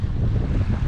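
Small waves and rapids on a river as a canoe drops through them, a steady close rush of water and wind noise throughout.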